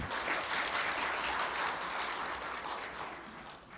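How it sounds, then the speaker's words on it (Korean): An audience claps steadily at a Korean maritime and fisheries outlook conference, a dense, even wash of applause that fades slightly toward the end. "큰 박수 부탁드립니다."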